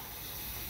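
Plate rinse water poured into a pot of Sicilian turkey leg bean stew, a steady close splashing gush filling the whole moment without any talk.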